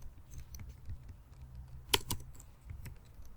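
Quiet keystrokes on a computer keyboard while entering text in MS Word, scattered soft taps with one sharper louder click in the middle, close but faint.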